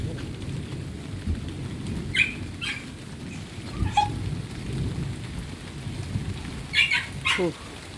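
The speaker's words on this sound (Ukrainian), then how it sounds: "Ну, Кажу, гроза страшенна" Steady rain pours down with a low rumble of thunder during a December thunderstorm in the south of Ukraine, while a few faint, brief calls cut through the downpour.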